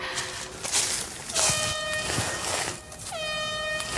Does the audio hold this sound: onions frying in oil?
no